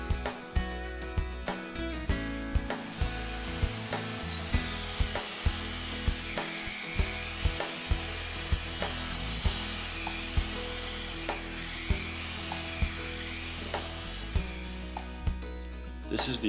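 A concrete floor polishing machine spinning a 60 grit pad on a wet/dry concrete floor makes a steady whirring grind with a high whine, punctuated by regular clicking knocks, continuous and close.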